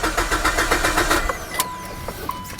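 Mitsubishi Evo 8 starter cranking in a rapid rhythmic whirr for over a second without catching, then cutting off, followed by a faint electronic tone and ticks, close and fairly loud.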